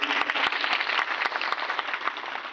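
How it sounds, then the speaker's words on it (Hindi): Audience clapping steadily to welcome a speaker at a Shrimad Bhagavat katha gathering in a colony tent pandal, a dense sustained round of applause with no talk over it. "दोनों हाथ उठाकर आचार्य देवेंद्र जी चतुर्वेदी जी के लिए ताली बजाकर स्वागत अभिवादन करें"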